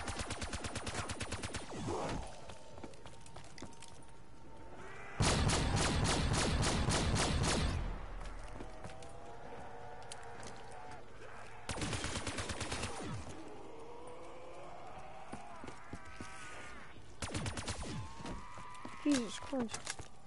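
Shotgun blasts from Black Ops 3 zombies mode come in several separate loud clusters, with quieter gaps between them, while someone talks throughout.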